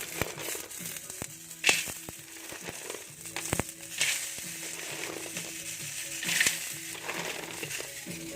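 Garlic and onion sauté in a hot pan with a constant close sizzle, broken by the sharp clinks and scrapes of a utensil stirring against the metal every couple of seconds, with a few louder crackling bursts.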